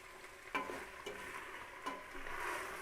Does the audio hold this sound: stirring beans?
yes